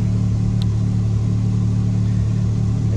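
A Can-Am X3 UTV engine runs loud and close, a steady low throbbing rumble that holds nearly even throughout with only slight swells.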